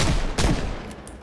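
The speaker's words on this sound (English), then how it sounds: "You can basically fire it off as a freaking machine gun" Handgun fire in the zombie survival game Project Zomboid, a single loud shot ringing out over a dense, noisy background, then tailing off into a fading rumble.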